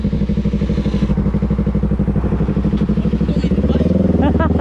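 A Yamaha R3 motorcycle with an M4 aftermarket exhaust idles close by with a loud, throbbing, evenly pulsing burble that rises into a brief rev near the end. Voices can be heard over the engine.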